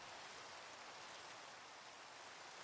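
Steady rain falling in a Minecraft world, heard as a dense, even hiss of drops that runs unbroken from start to finish, with no talk over it.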